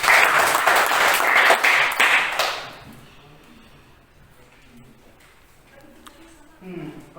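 Clapping from a classroom of students during a geometric sequence math lesson, loud and dense for about two seconds before fading out, with faint voices and room noise afterward.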